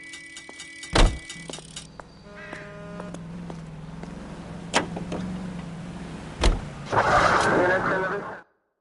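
Car in the L.A. Noire video game: a steady low engine drone runs throughout, broken by several sharp door-like thumps and ending in a louder rushing swell before cutting to silence.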